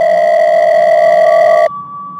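A steady electronic phone call tone holds loud and unbroken for well over a second, then cuts to a quieter single-pitch tone as the call drops.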